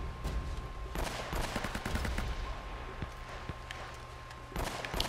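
Sniper rifle fire in Uncharted: Drake's Fortune rings out as several sharp, punchy shots spread over a few seconds, with a steady tone and faint background game ambience between them.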